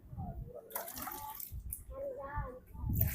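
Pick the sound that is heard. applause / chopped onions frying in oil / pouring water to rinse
pouring water to rinse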